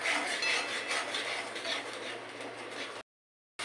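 Mustard, green chili and black pepper paste being stir-fried in a pan for a mustard fish curry, with a close scraping and rubbing of a spatula over a soft sizzle that cuts out abruptly near the end.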